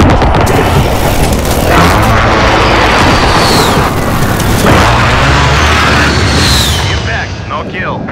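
A precision airstrike in Call of Duty: Modern Warfare sets off loud, deep booming explosions, a series of rolling blasts and rumbles mixed with debris crackle and brief voices.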